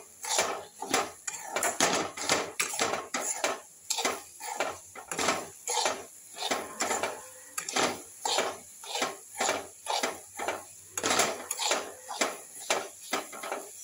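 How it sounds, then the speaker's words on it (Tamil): Sugar and crushed cardamom stirred in a pan with a metal spoon for somas filling: a steady run of rhythmic scraping and clinking strokes against the pan, close and fairly loud, with no voices. "இதை நல்லா கிண்டுங்க."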